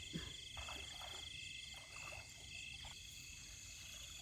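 Frogs croak at night during a frog-catching outing, a dense, steady chorus with high insect trilling that runs throughout and carries no talk.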